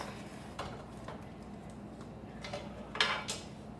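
A wooden spoon breaks up ground beef in a pan heated with canola oil and adobo, making scattered clacks and scrapes against the pan, several sharper knocks near the end, over a low background hum.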